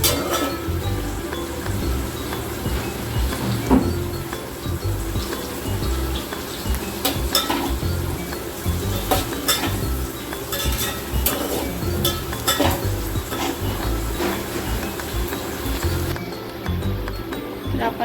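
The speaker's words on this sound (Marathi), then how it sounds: "एक अगदी चिमूटभर हळद टाकायची आणि एकदम फ्राय करून घेऊया" Vegetables fry with a pinch of turmeric in a pan over high heat, a steady sizzle running throughout with scattered clinks of a utensil against the pan, fairly close and even in level.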